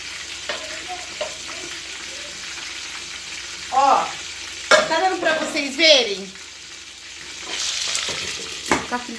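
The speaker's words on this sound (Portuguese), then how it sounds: "Tá fritando aqui pra gente finalizar" Batter for a nega maluca chocolate cake fries in a pan with a steady close sizzle throughout. Someone talks briefly over it partway through.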